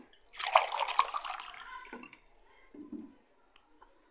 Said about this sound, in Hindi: ये देखें इसमें पानी शामिल करेंगे।